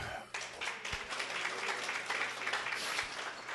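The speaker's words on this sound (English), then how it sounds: "I give Henry Muller an extra large round of applause" An audience at an InfoAge Wall of Honor ceremony applauding Henry Muller, a dense, steady patter of many hands clapping at a moderate distance, continuing without a break.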